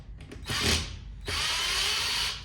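A power drill whirs in two bursts while undoing screws on a home coffee roaster, a short spin followed by a longer steady run, close and fairly loud.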